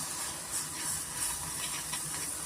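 Butter sizzles in a pan while palak channa gravy cooks, giving a steady, close, bright hiss with faint crackles and no one talking.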